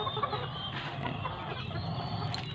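Gilmore hatch gamefowl hens crossed with roundhead, kept on a farm, clucking softly and intermittently nearby over a steady background hum, with a faint higher call near the end.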